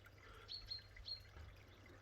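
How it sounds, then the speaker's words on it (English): Faint, high bird chirps come through a couple of times over a quiet outdoor background beside a koi pond, sounding distant and brief. "I could hear the birds tweeting in"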